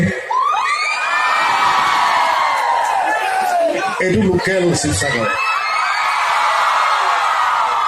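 A crowd of college girls screams and cheers loudly and continuously at a college event in Upper Assam, shrill whoops and yells rising and falling throughout, with someone speaking briefly over the din.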